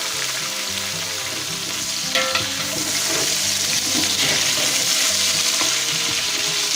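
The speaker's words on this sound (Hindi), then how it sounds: "आलू को इसके अंदर फ्राई करेंगे।" Potatoes frying in hot oil for vegetable biryani, a loud, dense, steady sizzle close by with bits of stirring, no voices.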